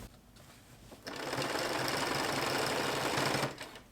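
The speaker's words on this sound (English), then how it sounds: "I'm just going to do a back stitch right here in the center" A sewing machine runs steadily for about two and a half seconds, back-stitching across the center of a fitted sheet being made from a flat sheet, starting abruptly and stopping cleanly, close up with no talking.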